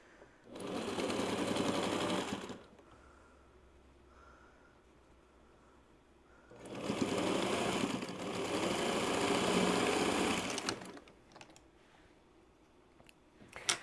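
Sewing machine stitching quilt seams in two steady whirring runs of about two and four seconds, with a quiet pause between them and faint clicks at the end.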